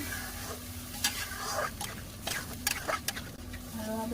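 A pan of chickpea and potato curry, with water just added, is stirred: soft scraping strokes and spoon clicks over a faint, quiet simmering sizzle.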